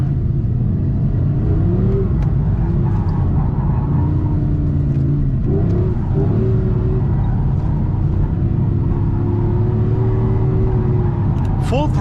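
An Audi R8 GT engine drones and revs at full throttle while drifting in Torque Rear mode, a steady loud rumble with shifting pitch and tire noise, with someone talking over it.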